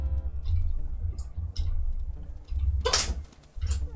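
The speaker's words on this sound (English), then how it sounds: "Bless you, Storm" A wolf sneezes in the WolfQuest video game: a sharp burst near the middle, set among softer in-game ticks and rustles with low rumbling underneath.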